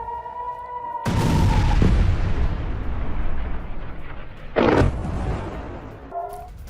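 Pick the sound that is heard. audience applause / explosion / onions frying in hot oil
explosion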